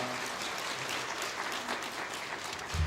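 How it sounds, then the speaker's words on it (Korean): Church congregation applauding to welcome the pastor to the pulpit, a dense steady patter of many hands filling the room at moderate distance, with a low thump at the very end. "박수로 모실까요?"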